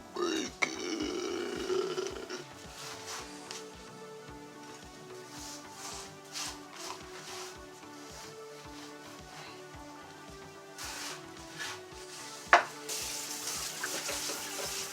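Greasy bacon sizzles and crackles steadily in a pan with no added oil, a constant close frying hiss broken by small pops and scraping, with a sharper clatter near the end and voices talking over it.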